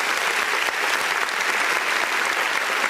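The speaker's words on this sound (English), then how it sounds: "Please give him a round of applause." Audience applause fills the hall at a motivational talk, a dense, steady wash of clapping that holds loud and unbroken throughout with no pauses.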